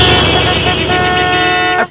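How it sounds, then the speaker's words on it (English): Car horns honking at a slow-moving car on a road trip, a loud sustained blare with layered tones held for nearly two seconds before cutting off abruptly, heard close and alone. "and everyone was honking at us"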